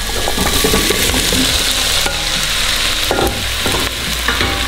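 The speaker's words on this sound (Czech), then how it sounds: "Do lehce orestované cibule přidáme mrkev." Carrots drop into lightly sautéed onion frying in hot oil in a pan, giving a loud, steady sizzle with stirring and scraping clatter throughout and no talk.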